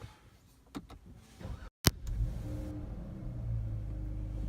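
A 2018 Dodge Charger SXT V6 engine with a K&N drop-in air filter cranks and catches after a brief click, then settles into a steady low idle rumble close by.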